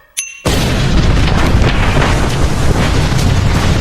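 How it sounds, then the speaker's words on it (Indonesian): A bomb blast in an animated underwater film, a sudden loud boom erupting into a dense, roaring rumble that fills the scene and sustains at full strength without speech. "Bom meledak."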